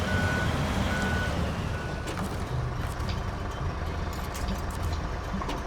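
A heavy truck reverses with a steady series of electronic backup beeps sounding over a loud, constant engine rumble during a cargo-hauling expedition along the Amur.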